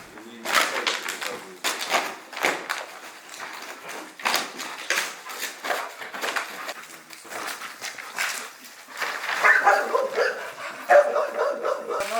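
A search and rescue dog barks and yips repeatedly at a rubble training site, in irregular bursts with whimpers between, close and fairly loud, and people talk at times.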